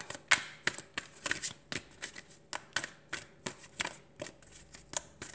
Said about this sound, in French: Je mélange bien les cartes.